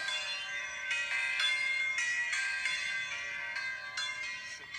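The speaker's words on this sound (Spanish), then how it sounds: "el sonido de las campanas de un señor que toca eso" Resonant church bells ring in repeated strokes about half a second to a second apart, each leaving a long, bright ringing tail that overlaps the next, steady and moderately loud with no voices.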